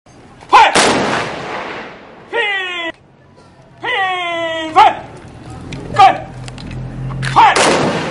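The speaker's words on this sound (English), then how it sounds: "A contingent of Manipur Rifles offered gun salute as a mark of paying homage to the patriot." A Manipur Rifles contingent fires a gun salute at a homage ceremony for a patriot: several sharp, loud reports ring out at uneven intervals, interleaved with sustained tonal calls, and voices sound in the background.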